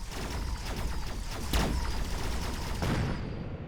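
Snipers and other units in the Mechabellum strategy game fire in dense, continuous volleys of overlapping shots, loud and close, with a few sharper cracks standing out.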